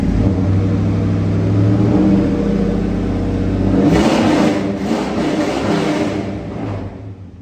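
A Mazda B4000 pickup carrying a swapped LT1 V8 revs hard through a loud, barely muffled exhaust, a steady close roar that swells and then drops back toward idle near the end.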